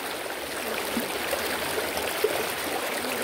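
A river pouring over a small waterfall into a swimming spot, a dense continuous rush of water that holds steady throughout with no voices.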